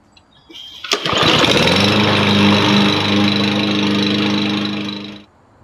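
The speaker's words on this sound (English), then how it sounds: "I mulch them with my lawnmower" A lawn mower engine starts with a sputter, then runs loud and steady at close range for several seconds while mulching leaves, before cutting off.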